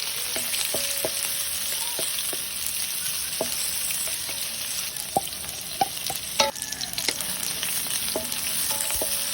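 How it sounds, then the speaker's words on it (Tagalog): Garlic, onion and ginger sizzle steadily in a pan for catfish curry, a constant bright frying hiss punctuated by frequent spatula scrapes and taps throughout. "nagisa na po tayo ng ating bawang, sibuyas, luya"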